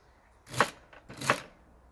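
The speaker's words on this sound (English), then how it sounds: "So I'm gonna simply cut up my celery" A knife chops through celery on a board in a back garden, two crisp, close cuts about half a second apart, with a faint softer tap between them.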